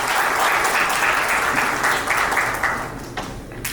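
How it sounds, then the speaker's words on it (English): A conference audience gives warm applause at an opening ceremony, with dense, full clapping that holds steady and then tapers off into a few scattered claps. "Please welcome him with the warm clapping."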